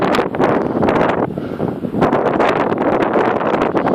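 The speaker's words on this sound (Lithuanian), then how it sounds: "Vėjas pučia į nugarą." Strong wind at the Cliffs of Moher buffets the microphone in a loud, continuous roar with rising and falling gusts, and no voices are heard.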